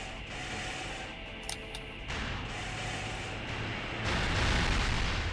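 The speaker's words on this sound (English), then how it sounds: "Mirage just launched a missile salvo" A missile salvo launched by the Mirage mech in Armored Core Nexus, a dense, sustained rumbling roar of launches with a sharp pop partway through, swelling louder near the end and heard alone with no talk.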